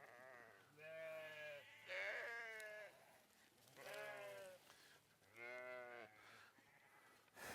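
Katahdin sheep bleat on a ranch in four separate, drawn-out, wavering calls spaced a second or two apart. The calls are clear and moderately close, with a faint low hum behind them.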